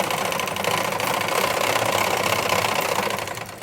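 A sewing machine runs a second top stitch over a blouse seam, its motor whirring in a fast, even, close-up rattle that fades slightly at the end.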